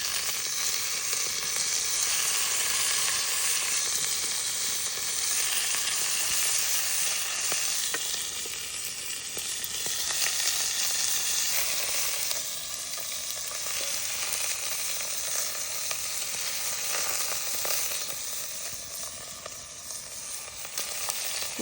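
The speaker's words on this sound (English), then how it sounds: "We're just searing it." Beef chunks searing in a hot cast iron Dutch oven over a campfire, a loud, steady sizzle and crackle that runs continuously with occasional stirring scrapes.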